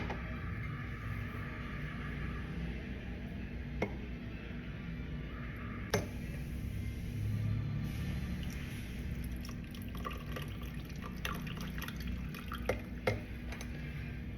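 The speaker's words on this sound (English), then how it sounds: "Using a spoon, we slowly pour the coffee over the ginger ale." Coffee poured slowly over a spoon into a glass of ginger ale gives faint, quiet trickling and drips with a few small clinks against the glass, all against a soft steady background.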